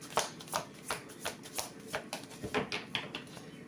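Tarot cards being shuffled by hand, close up: a steady run of quick riffling, flicking bursts, roughly two or three per second, with no talk over them.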